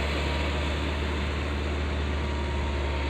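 A tiller engine runs steadily in a field being prepared for potato planting at full depth, a continuous low mechanical drone with broadband noise and no pauses throughout.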